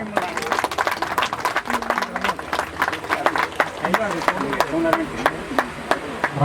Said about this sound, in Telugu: అందరు గట్టిగా చప్పట్లు.